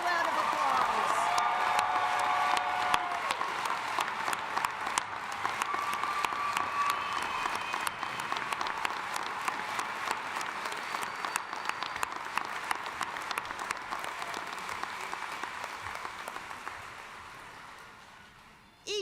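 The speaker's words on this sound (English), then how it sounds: "Will everyone join me giving these grads one more round of applause?" Commencement audience in an arena applauding graduates, sustained dense clapping with scattered cheers and whoops that runs for many seconds before tapering off at the end.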